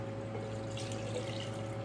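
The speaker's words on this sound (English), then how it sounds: "Once I fill it up with water," Tap water running steadily into a glass jar holding fruit slices, a continuous close pour with a faint rising fill, no talking.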